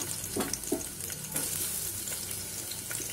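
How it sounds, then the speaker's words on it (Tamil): Onions dropped into hot oil in a pressure cooker for veg soup, a steady bright sizzle with a few scraping stirs, close and continuous. "எண்ணெய் சூடேறிடுச்சு வெங்காயம் சேர்த்துருவோம்"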